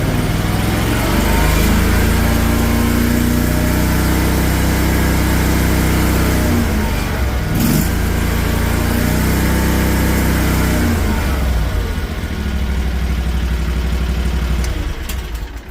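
Small engine of a Chinese mini skid steer running after a throttle cable fix, a loud, steady close drone with mechanical clatter and a slight shift in pitch midway, no voices.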